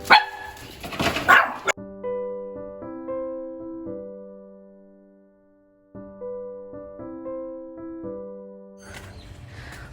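Dogs bark at a dog farm on rural land in Nakhon Nayok, Thailand. There are noisy bursts at the start and end, with a steady tonal melody playing between them.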